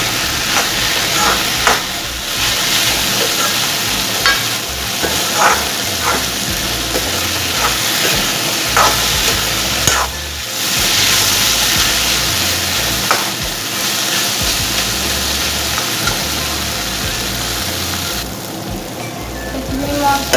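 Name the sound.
stirring and frying egg with vegetables in a pan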